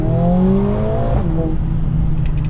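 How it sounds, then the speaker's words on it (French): A Mercedes-AMG A45 S, a 421-horsepower hatchback, drones loudly while driving, its engine note rising in pitch and then dropping as the gearbox shifts, leaving a steady low hum with a kart-like buzz. "La voiture, malgré que ça fasse pas un bruit de ouf, je trouve que ça fait vraiment un bruit de kart."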